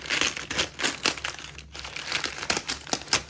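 Crinkly packaging being cut and peeled open from around a 2021 2oz silver proof Krugerrand coin, a close run of irregular crumpling and tearing bursts with brief pauses and no voices.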